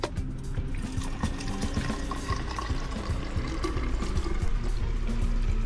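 Water running steadily into drinking bottles at a supermarket tap during a solo bikepacking trip through Holland and Germany, a continuous gushing, splashing fill that stays close and fairly loud throughout, with no voices.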